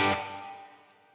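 A single clean electric guitar chord or note rings out from a live rig, struck once loudly and left to decay slowly over about a second with no other sounds.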